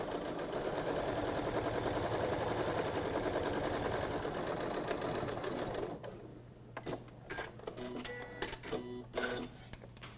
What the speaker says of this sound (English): now I'm going to sew those seams just the way I did to the front